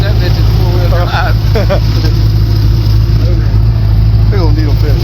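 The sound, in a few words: vehicle engine running after being put in four-wheel drive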